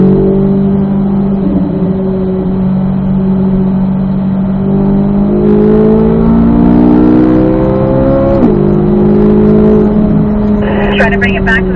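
A Corvette Z06 engine drones loud and close on the Ron Fellows East Track, its pitch climbing and dropping through gear changes as it accelerates, while a voice talks over it.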